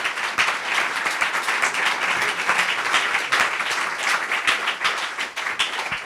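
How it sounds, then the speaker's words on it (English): Audience applause fills a book presentation for a new translation at NYU, a steady dense wash of many hands clapping throughout, loud and sustained without a break. "Clap your hands."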